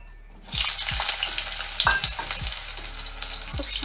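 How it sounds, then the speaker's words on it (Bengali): Bitter gourd slices fry in hot oil with a loud, steady sizzle, and a utensil scrapes and taps the pan in a regular rhythm, close up with no talking. "উচ্ছেগুলো ভেজে নেব,"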